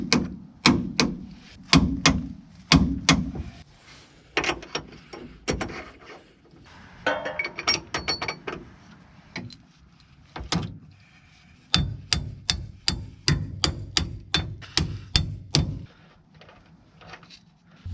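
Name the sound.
wrench tightening leaf spring shackle bolts to 80 foot-pounds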